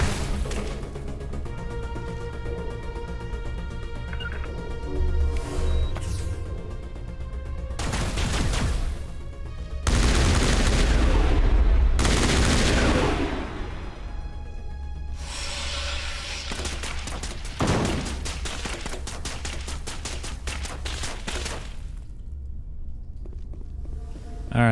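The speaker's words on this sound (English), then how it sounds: "How is he shooting through that?" Gunfire and combat in Mass Effect Legendary Edition: dense bursts of weapon fire, crashes and impacts come in loud waves over a constant game soundscape, with no talk.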